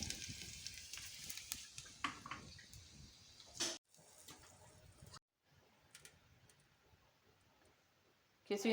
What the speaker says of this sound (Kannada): ಮೆಣಸು ಸಾಸಿವೆ ಜೀರಿಗೆ ಬೆಳ್ಳುಳ್ಳಿ ಹಾಕಿ ಸಾಂಬಾರಿಗೆ ಒಗ್ಗರಣೆ ಮಾಡ್ಕೊಳ್ತಿದ್ದಾರೆ